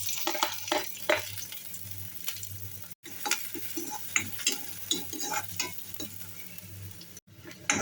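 Thinly sliced onions fry in hot oil in a kadai on a gas stove, giving a steady sizzle with frequent scraping stirs and clicks from a spatula.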